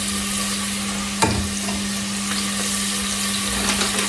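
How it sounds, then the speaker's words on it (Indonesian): Ingredients for Slovak goulash sautéing in a pan until lightly browned, a steady close sizzle running throughout with one brief clatter early on and faint stirring scrapes, no talk. "Ini ditumis sampai dia agak kecoklatan, baru nanti masukin si dagingnya."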